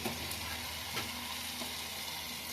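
Bombay duck fish frying in a spiced tomato, chilli and turmeric masala, a continuous close sizzle with a few soft stirring knocks, steady and moderately loud with no voices.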